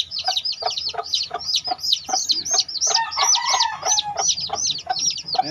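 Day-old chicks on the ground beside their mother hen, a dense stream of high, rapid peeping mixed with soft clucks, steady and close throughout with no talking.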